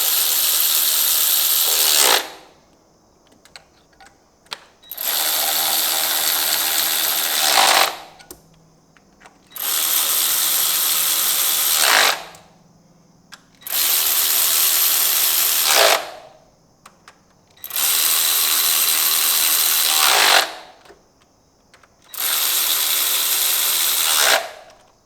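Six long bursts of a power ratchet spinning bolts during a Miata timing belt replacement, each roughly two seconds, separated by short quiet gaps, close and loud with no talk.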